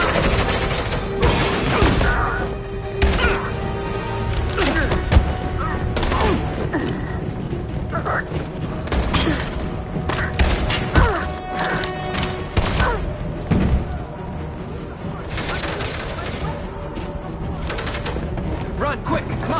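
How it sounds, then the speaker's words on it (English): Rapid bursts of gunfire and heavy thuds from the video game Detroit crackle loud and close in near-continuous volleys, with voices faintly mixed in underneath. "There you go, suppressing fire!"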